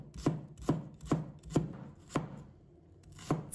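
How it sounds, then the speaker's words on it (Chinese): A knife chops shallots into small pieces on a cutting board, six crisp, evenly spaced thuds with a short pause before the last one, close and clear with no talking. "再准备几个红葱头，把它切成小块"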